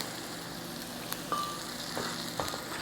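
Onions frying in a pan, heard as a steady close sizzle with a few scrapes and stirring clicks over the top.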